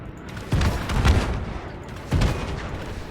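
Ship weapons fire in the Elite Dangerous video game as two loud bursts of heavy, booming shots over a steady engine rumble, with no voices.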